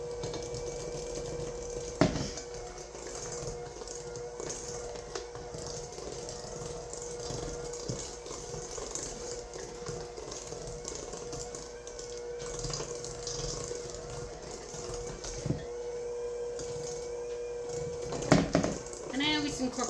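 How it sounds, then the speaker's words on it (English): A stand mixer churns cookie dough on slow speed, its motor humming steadily and close throughout, with a few brief knocks and a voice talking over it. "I do start mixing this on slow so that I don't get the flour flying"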